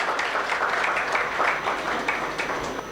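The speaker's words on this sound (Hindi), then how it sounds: "डंडा लेकर तालियां बजा दो" An audience at a comedy poetry show clapping together, a dense, steady wash of applause that holds for a few seconds and eases slightly at the end.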